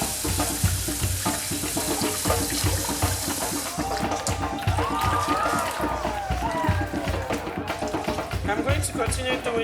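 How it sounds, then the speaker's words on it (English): Rice is washed by hand in a pot of water to rinse off starch. Grains swish and slosh continuously, with running-water splashes, and a person talks over it. "Now I'm going to wash my rice to take off the excess starch."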